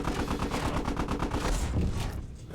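A tank-mounted .50 cal machine gun in the Squad video game fires a sustained rapid burst from the command hatch, loud and close, with even rhythmic thuds that trail off at the end.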